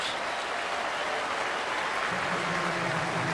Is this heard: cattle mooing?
no